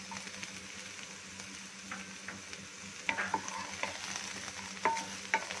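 Capsicum and carrot fry with onions in a pan as a steady sizzle, with occasional sharp scrapes and taps of a spatula stirring near the end.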